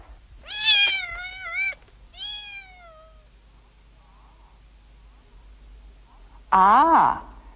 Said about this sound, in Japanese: 猫がいます。